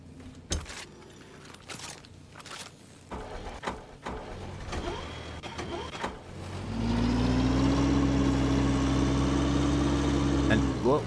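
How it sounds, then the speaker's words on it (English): A grinder machine in The Last Caretaker game starts up on a giant ball after scattered clanks and knocks, settling into a loud, steady droning whir with a rising pitch that holds to the end. "I am going to put this giant ball inside the grinder."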